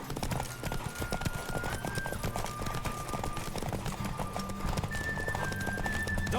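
Continuous clip-clop of galloping hooves in The Witcher 3 over a busy game soundscape, with a constant background tone and steady rhythm throughout.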